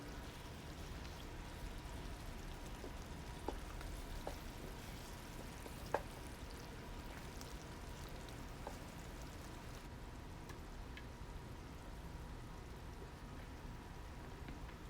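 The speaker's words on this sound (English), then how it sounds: "Let it simmer for a while." Chicken and egg simmer in a pot, giving a faint, even bubbling hiss with a few small pops and no talking.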